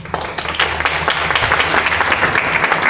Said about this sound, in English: maybe a round of applause for Sarah